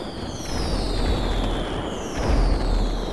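Fireworks in the video game GTA 5: whistling rockets that sweep downward in pitch, layered over low rumbling booms and crackle, with two swells of louder bursts.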